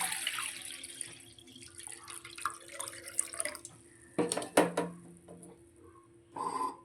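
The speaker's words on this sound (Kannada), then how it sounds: "ಇದ್ರ ಒಳಗಡೆ ನೀರು ಹಾಕೊಂಡು ಬರೋಣ" Water runs and splashes into a blackened cooking pot in uneven bursts, with clanks of metal and a brief gush of tap water near the end.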